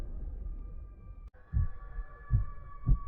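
Heartbeat sound effect for a haunted graveyard horror tale: three deep, thudding low beats at a slow, steady pulse over a dark ambient drone.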